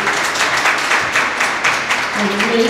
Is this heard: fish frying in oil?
no